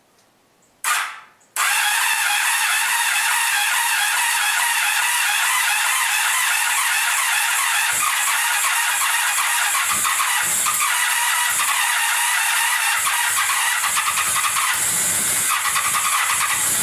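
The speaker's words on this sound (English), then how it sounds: "I'm going to try cranking it over" A Honda Sabre motorcycle engine, part of a cafe racer project, cranks briefly, then catches and settles into a steady loud idle that runs on evenly, close up with no talk.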